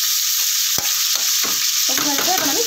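Cauliflower frying in a pan, a steady loud sizzle with a few sharp stirring scrapes and clicks against the pan.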